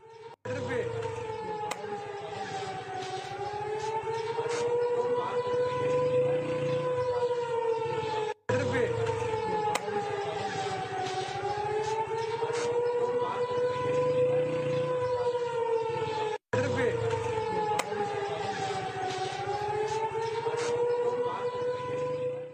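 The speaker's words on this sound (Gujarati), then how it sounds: "ત્યાં ઇમરજન્સી સાયરન વાગ્યું છે" A loud civil defense emergency siren in Islamabad, Pakistan wails continuously, its pitch rising and falling in slow sweeping cycles, repeated three times with short breaks.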